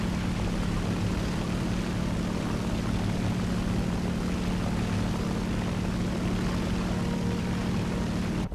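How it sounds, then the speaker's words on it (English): The engines of a B-25 bomber drone in the War Thunder video game as a loud, constant hum. It holds unchanged throughout, with no talk over it. "We got another bomber approaching. He's time B-25."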